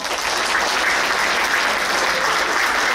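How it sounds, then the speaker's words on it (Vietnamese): Audience applause at a memorial event for poet Nguyen Chi Thien, a steady, even roll of many hands clapping from a seated crowd, sustained without break for a few seconds. "Xin quý vị cho nhau một tràng pháo tay."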